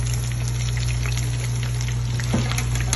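Shrimp fritters fry in a pan over low heat, giving a steady, soft sizzle with a constant low hum and a few faint pops, with no talk.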